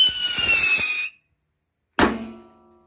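A Pyro Roketor firework rocket fired from a jumbo wok hisses and whistles loudly, falls silent, then bursts with a sharp bang that rings and fades.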